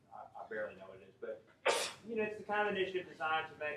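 A single sharp sneeze erupts in the middle of a man's ongoing speech, brief and close, with talking continuing right before and after it.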